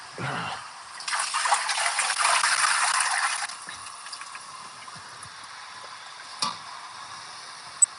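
Water thrown into a hot pan where steak is cooking bursts into a loud hissing sizzle for about two seconds, then settles into a quieter, steady crackling fry with a few small pops.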